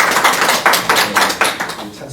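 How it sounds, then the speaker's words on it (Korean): Church congregation clapping in praise, a loud run of rhythmic, evenly spaced claps about every quarter second, close and full, with voices mixed in. "박수로 찬양하겠습니다"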